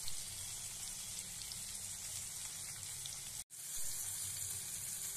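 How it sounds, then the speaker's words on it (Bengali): Spices fry in hot oil in a wok, giving a steady close crackling sizzle that runs continuously apart from one very brief cut, with no talking. "কড়াতে তেল দিয়েছি আর মশলাগুলো ভাজতে দিয়েছি।"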